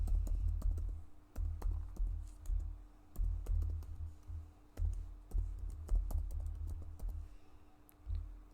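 Keys clatter on a computer keyboard in quick, uneven bursts of typing while entering account details, close and moderately loud, with short pauses between runs of keystrokes and no one speaking.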